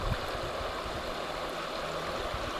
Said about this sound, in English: So I stand in the river.